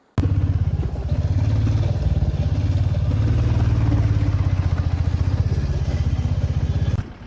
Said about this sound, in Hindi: बहुत ट्रैफिक है आगे तक।